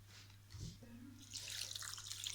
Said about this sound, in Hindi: फ्री हैंड से बस आपने इसके अंदर पानी डालना है। हमने बस इसको भिगो के रखना है।